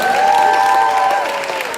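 A large crowd at a Cycle for Survival indoor cycling charity event claps and cheers continuously, dense and loud throughout, with a sustained tone running beneath the noise.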